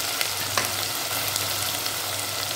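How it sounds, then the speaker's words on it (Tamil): Onions frying in a pan for mutton biryani, a steady close hiss and crackle of oil that runs unbroken with faint clicks, no voices. "இந்த வெங்காயத்தை நல்லா வதக்கிக்கலாம்"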